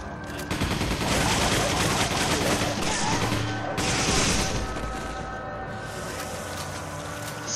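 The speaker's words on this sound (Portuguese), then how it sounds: "gastou um pente no cachorro" Gunfire in the Resident Evil 5 video game as a player empties a magazine at a dog, with a loud dense volley of rapid shots and heavy impacts that continues almost unbroken.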